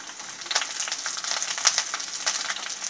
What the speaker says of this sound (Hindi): इसको कम से कम हमें 2 मिनट तक सॉटे करना है।